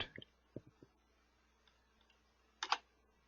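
Several quiet computer keyboard keystrokes are typed in a short burst, followed after a pause by a sharper double click as the return key is pressed, all close and soft in an otherwise quiet room.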